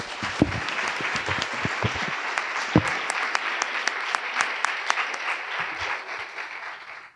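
An audience at a debate event on the future of democracy bursts into loud, continuous applause with sharp individual claps standing out, easing off toward the end.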